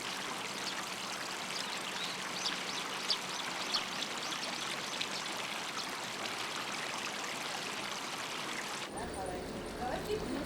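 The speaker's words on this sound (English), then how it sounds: "Cleaned up by the carp, the tank water eventually rejoins the channel." Water runs steadily through a man-made creek in rural Japan, fed by tank water cleaned by carp. The flow is a close, continuous rushing and babbling that continues unbroken throughout, with a brief change in tone near the end.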